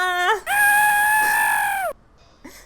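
A rooster crows loudly and close in the Half Sphere video game, a short rising note followed by one long sustained cock-a-doodle call, then a brief cluck.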